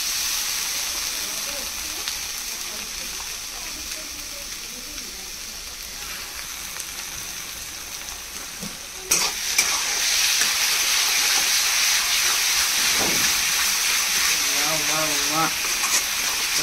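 Ginger garlic paste sizzles in a pan with a broad hiss of steam that jumps louder partway through and keeps going, with faint voices in the background.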